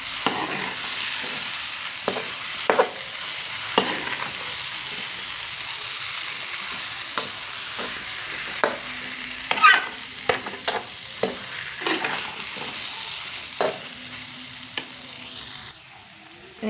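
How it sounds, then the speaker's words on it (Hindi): Sugar is stirred into semolina halwa in a pan, giving a steady sizzling hiss broken by repeated scrapes and clacks of the spoon against the pan, close and moderately loud. "चीनी को पूरा हमें मिक्स करना है।"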